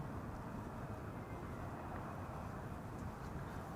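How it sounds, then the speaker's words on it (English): A jet airliner approaches Amsterdam Schiphol Airport, producing a constant broad, low roar that holds steady and fills the whole stretch without any speech. "You can already hear the next airplane coming in."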